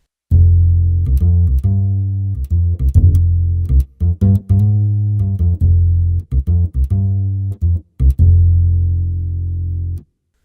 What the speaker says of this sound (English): that's the acoustic bass 1, and that's on MIDI part 5